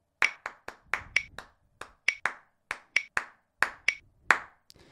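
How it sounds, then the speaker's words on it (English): Hands clap a syncopated sixteenth-note rhythm for a bass groove exercise: about eighteen sharp, close claps in uneven clusters with short gaps, heard alone with no talking. "clapping this rhythm that you see on the screen now"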